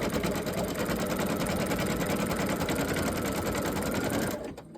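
An embroidery sewing machine stitches a 4x4 in-the-hoop snowman design with a steady, fast, close mechanical chatter that runs without a break until it stops abruptly at the end.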